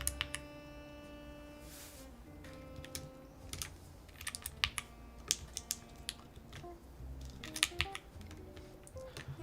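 Keystrokes on a 64-key mechanical keyboard fitted with GMK Shawshin keycaps, irregular clacking bursts of typing over a low steady hum, close and without speech.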